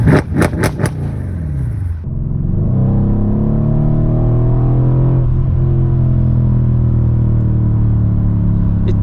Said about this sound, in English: in Sport Plus, the moment you touch the brake pedal,